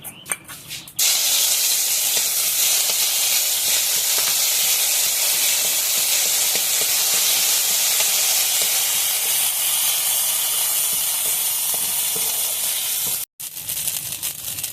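Cumin paste and black cumin paste hit hot oil with a loud, steady sizzling hiss that runs unbroken for most of the stretch, cutting off briefly near the end before resuming.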